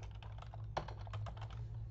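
Contact details are typed on a computer keyboard in a quick, close burst of steady keystrokes lasting about two seconds, with no voices.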